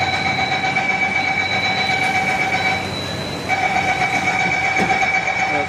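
A Mumbai Metro Line 3 train runs steadily, with a constant rolling rumble and a prominent tonal electric whine from inside the carriage, dipping briefly midway before resuming.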